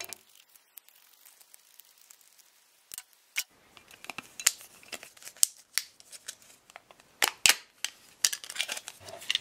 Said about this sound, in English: what we want to do is cut this circle smaller so that it'll fit on the inside of the lid